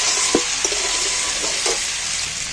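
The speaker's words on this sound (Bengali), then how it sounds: "যেইভাবে মাংস কষে সেইভাবে এটাকে শুধু কষিয়ে নেব" A cauliflower and egg mixture is stir-fried in a pan, giving a steady close sizzle with a few soft scraping stirs of the spatula and no talking.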